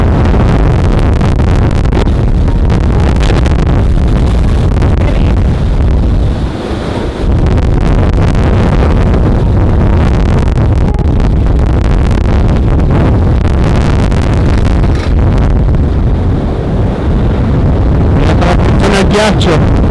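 Strong gusts of wind over 120 km/h batter a farm, a continuous loud roar with rushing, buffeting surges throughout.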